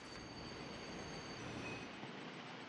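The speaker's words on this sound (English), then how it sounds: "Why are we stopping? I'm not sure. Maybe there's something wrong with the train." Train in the video game Little Witch in the Woods slowing to a stop, a faint, steady rail rumble with a thin high whine that fades off near the end.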